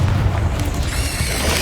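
The Bombarda blast spell goes off in Hogwarts Legacy, a heavy low rumbling boom that rolls on through the moment amid crackling magical effects.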